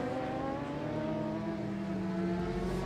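A superbike crosses the finish line on a wheelie at the end of a Masters Superbike Championship race, its engine a steady, high droning whine heard from some distance, with no voices.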